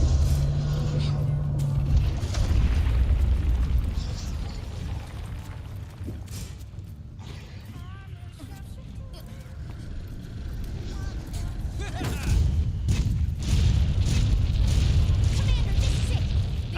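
Ballista and cannon fire in the Monster Hunter World Iceborne game bring booms and impacts over dense battle noise, with a steady roar throughout and heavier bursts toward the end while a player talks over it.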